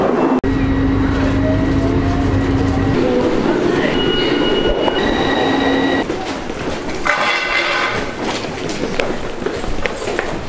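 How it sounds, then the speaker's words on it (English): A London train pulls away from the platform, a loud rumbling departure with squealing wheel tones and rising whine, fading into clattering rail noise, with a voice briefly talking. "Just missed the train."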